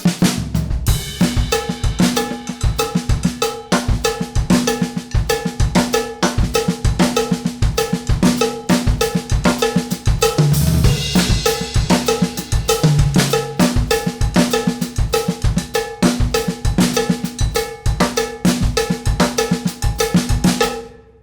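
A steady, driving salsa songo groove on drum kit: a bright cowbell clanks on a repeating pattern over kick and snare drums, continuous and loud with no voices.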